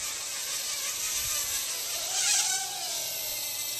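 A Traxxas QR-1 quadcopter flying nearby: a steady high-pitched motor buzz with whining pitch swings as it maneuvers, loudest mid-clip, with no talking.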